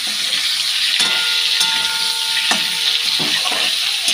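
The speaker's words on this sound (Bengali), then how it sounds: "এই যে দেখো ফুলকপিটা একটু ঢাকা দিয়ে দিয়েছিলাম ভাজা হওয়ার জন্য। ভাজা হয়ে গেছে।" Cauliflower fries in a covered pan, giving a steady, close sizzle and hiss with a few sharp clicks and knocks scattered through it.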